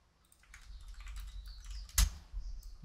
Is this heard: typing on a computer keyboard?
yes